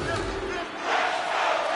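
Hockey arena crowd during a tie game, a broad steady roar of cheering that swells louder midway and holds, filling the space with no distinct voices standing out.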